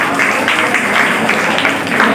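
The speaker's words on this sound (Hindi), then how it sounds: "जोरदार तालियां के लिए।" Applause from an audience at a career guidance program, a steady dense wash of hand claps running throughout at moderate loudness with no pauses.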